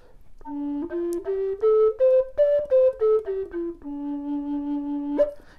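A flute plays a short run of separately tongued notes that climb and then descend, each with a crisp articulated start, ending on a held low note, solo and close.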